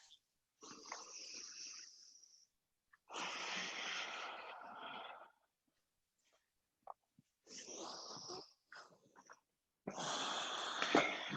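Slow, paced Ujjayi yoga breathing, each long, raspy, throaty inhale and exhale close to the mic, separated by silent pauses, with a soft click now and then.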